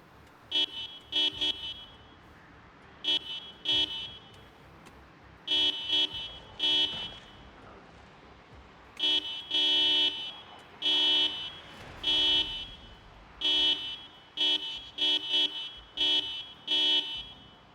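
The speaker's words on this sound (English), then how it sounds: "go on a little honking spree here." A car horn in the video game Project Zomboid honks in a long series of short and longer blasts in an uneven rhythm, loud and close with brief gaps between them and no talking.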